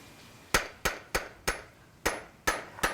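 A hammer taps a small stone being tested for soundness before it is carved into an inkstone, giving seven sharp, evenly spaced strikes, each bright and close with a brief ringing decay, with no one talking.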